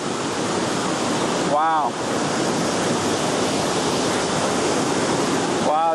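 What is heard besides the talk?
waterfall near Da Lat, Vietnam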